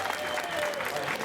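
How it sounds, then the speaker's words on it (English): Applause from a fair audience welcoming a volunteer onstage at a comedy show at the Tunbridge World's Fair, a steady wash of clapping from a crowd, moderately loud and continuous. "Big round of applause."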